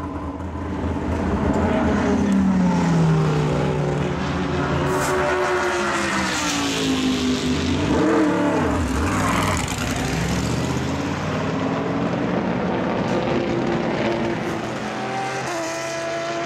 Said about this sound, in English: The car comes into the pit lane, Phil Clean is ready to clamber on board